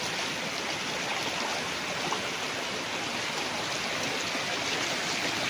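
A rain-fed stream at a spring on a farm lot rushes in a dense, even, broadband wash of flowing water, close and loud, steady throughout without any voices.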